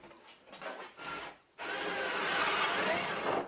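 Small drill boring tiny reference holes through wood for alignment pins, with a few short bursts followed by a loud, steady continuous whir close by.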